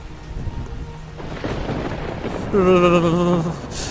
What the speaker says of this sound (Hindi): ये बारिश तो रुकने का नाम नहीं ले रही। ये तो और तेज होती जा रही है।